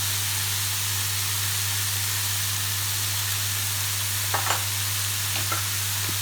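Chicken with garlic and paprika fries in a pan with a steady, even sizzling hiss over a low constant hum, and a few soft clicks of a utensil near the end.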